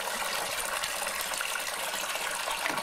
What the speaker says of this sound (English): This is dirty water, right?